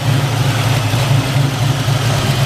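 A 1966 AMC Rambler American 440 hardtop with a thumper cam and a 727 automatic, idling with a steady, loopy low rumble and rhythmic lope from the exhaust, close and loud with no talking.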